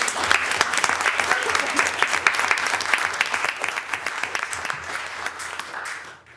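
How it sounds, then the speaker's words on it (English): A crowd at a school board candidate forum applauds with dense, steady clapping that carries on for several seconds, then fades out. "a round of applause for all of the people who put this together"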